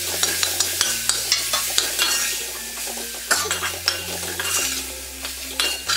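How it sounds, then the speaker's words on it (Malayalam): Chopped tomatoes stirred into masala in a pan for crab curry: a close, bright sizzle with repeated scraping and clinking of a spoon against the pan, in short regular strokes, with low background music beneath and no voice. "ഈ അരിഞ്ഞു വെച്ചിരിക്കുന്ന തക്കാളി ചേർത്ത് ഇതൊന്ന് ഇളക്കി കൊടുക്കാം"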